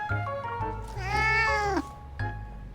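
An orange tabby cat in the video game Love and Deepspace lets out a long, clear, rising meow over a low background hum, with a couple of shorter mews around it.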